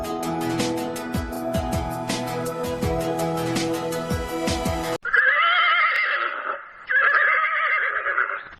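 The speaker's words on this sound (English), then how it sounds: "Horse. Neigh, neigh." A horse neighs twice in quick succession, each a loud shrill whinny that wavers and trails off, close and clear, following a few seconds of other sound.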